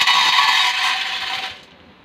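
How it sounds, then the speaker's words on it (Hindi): Dry macaroni pours into a cooking pot as a steady dry rattling scrape lasting about a second and a half, then it thins out and trails off near the end. "सबसे पहले हम ये मैकरोनी डालेंगे इसके अंदर।"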